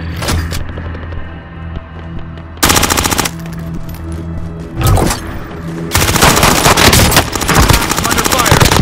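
Heavy automatic gunfire in a Call of Duty: Warzone match rattles in loud sustained bursts with brief lulls, while voices talk over the shooting.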